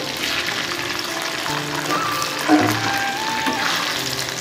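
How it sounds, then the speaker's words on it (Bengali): Marinated soya chunks, prepared chilli-chicken style, fry in hot oil with a steady close sizzle and crackle, with a faint stir or clink partway through and no talking. "তা ভেজে নিয়েছি, তুলে নিয়েছি, যে হাফ এখনও ভাজছি"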